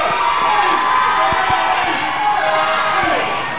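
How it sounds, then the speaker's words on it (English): A loud, continuous roar of crowd cheering and shouting fills a wrestling show arena, dense and steady from start to finish with a few sharp whoops rising out of the din. "What a deafening ovation for the rock star Robbie Rotten"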